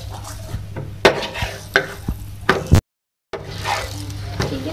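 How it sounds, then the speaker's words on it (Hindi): Potato paratha frying in ghee on a pan: a close, steady sizzle with a few sharp scrapes and taps. It cuts out briefly into silence, then the frying sizzle comes back. "अच्छे तरीके से इसको हम जो है फ्राई करेंगे घी में"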